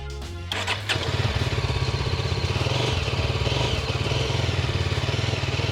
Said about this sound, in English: Let's hear the sound of the motorcycle then once.